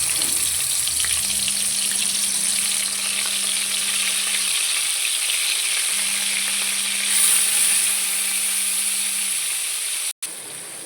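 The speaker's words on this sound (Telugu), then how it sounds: "ఇప్పుడు ఆయిల్ హీట్ అయింది కదండి మనం ఇలా స్టఫింగ్ చేసుకున్నవి ఒక్కొక్కటిగా వేసేసుకుందాం" Stuffed eggplants fry in hot oil, giving a steady, loud bubbling sizzle with a bright hiss that stays continuous and even throughout, with no talking.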